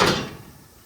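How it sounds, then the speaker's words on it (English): A sticking back door being shut with a single close, loud thud that dies away quickly. "The back door's sticking, which is an issue we have."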